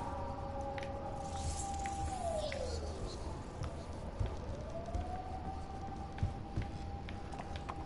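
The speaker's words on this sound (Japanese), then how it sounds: "また救急車の音が。" An ambulance siren passes outside, heard faintly through a room: a steady tone that sweeps down, then climbs back up and holds, with small knocks and footstep-like sounds indoors.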